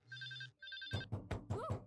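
A telephone rings in two short bursts of bright electronic trilling, then loud, punchy music and sound effects from an animated Marvel superhero episode take over.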